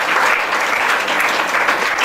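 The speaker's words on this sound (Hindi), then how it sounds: "अपने लिए ताली बजाएं" A congregation claps for itself during a Hindi church sermon, a loud, steady, dense round of applause lasting about two seconds with no speech over it.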